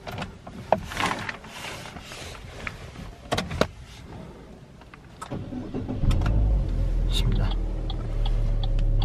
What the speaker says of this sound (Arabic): بسم الله، شغل السيارة.